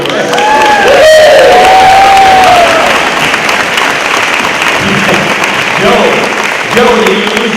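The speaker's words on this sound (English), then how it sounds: "let's get some crowd noise here so it's believable" A crowd cheers and applauds loudly and continuously at an outdoor Relay For Life charity event ahead of a torch lighting, with whistles and shouts rising above the dense roar throughout.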